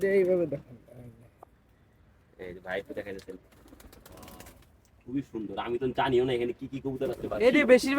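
Pigeons coo on a rooftop, their soft, throaty calls mixed in with people talking nearby. The cooing comes in bursts at the start and again toward the end.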